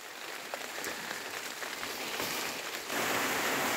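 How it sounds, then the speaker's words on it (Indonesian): Rain begins falling over a tomato field, light pattering drops that thicken into a denser, steadier hiss toward the end. "Bisa Anda perhatikan hujan sudah mulai turun"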